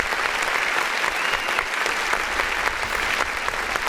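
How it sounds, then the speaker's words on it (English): Dense, continuous applause fills the whole stretch, an even wash of many people clapping together at a steady loudness. "Let's go ahead and hit the clap button"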